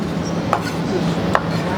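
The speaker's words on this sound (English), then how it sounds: "just gonna keep chopping that down." A knife chops food on a board, two soft, sharp knocks about a second apart beneath ongoing background noise and muffled voices.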